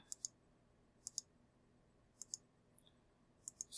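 Computer mouse clicks, quiet and close, arriving in pairs and singles: two near the start, two around one second, two more past two seconds, then a few sparse clicks toward the end, with no talking.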